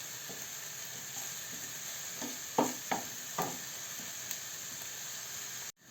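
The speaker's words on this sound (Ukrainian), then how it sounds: "Отут і на маленькому вогні підсмажуємо цибульку нашу" Low, steady sizzle of onion frying in a pan over low heat, with a few soft stirring clinks and scrapes partway through, then a sudden cut near the end.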